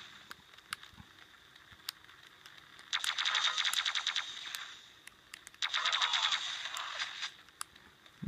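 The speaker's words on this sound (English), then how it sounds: "I can use the plasma gun decently. The rocket launcher is not too hard since it's AoE damage." Plasma gun and rocket launcher fire in Quake 3 played on a tiny Raspberry Pi handheld in a Game Boy Advance SP case, two sustained bursts of rapid crackling shots at moderate level, with scattered quieter clicks between.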